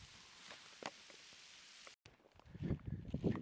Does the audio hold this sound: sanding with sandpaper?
no